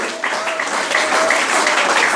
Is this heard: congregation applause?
yes